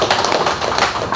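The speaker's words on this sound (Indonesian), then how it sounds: "tepuk tangan untuk Bang Asrul" Audience clapping at a political party gathering, a dense, close wash of many hands applauding at steady loudness through the whole moment, with no talk.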